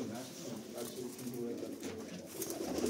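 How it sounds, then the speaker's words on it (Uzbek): Low, throaty cooing from large-breed pigeons kept for sale, a steady rolling burble close by with a faint voice in the background. "Mana kaptar."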